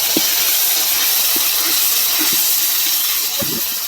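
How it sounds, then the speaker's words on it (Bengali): Water is poured into a hot pan of cooking masala with sugar for a Bengali gota siddho dish, producing a loud, even rushing hiss that stays steady for several seconds, with a few faint knocks underneath. "মিষ্টি দিয়ে একটু জলটা দিয়ে দেবো।"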